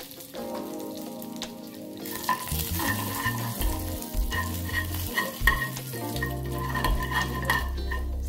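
Mustard seeds, curry leaves and asafoetida sizzle in hot oil for a radish chutney tempering, a steady close frying hiss with faint crackles and stirring, and a low droning tone running underneath.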